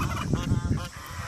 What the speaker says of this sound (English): Turkeys and geese, goats, chickens.